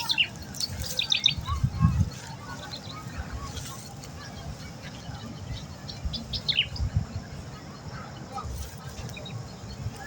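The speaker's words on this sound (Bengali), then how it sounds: "কিছু পাখির শব্দ রেকর্ড করে নিচ্ছি।" Birds chirp outdoors in short bright bursts, clustered twitters rising over a low rumbling background, moderately near and intermittent across the clip.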